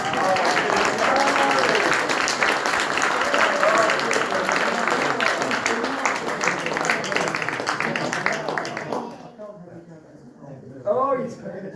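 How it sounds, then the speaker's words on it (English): Audience applause at a folk music concert, sustained and full with crowd murmur mixed in for most of the stretch, then dropping away near the end as a voice begins. "But another round of applause."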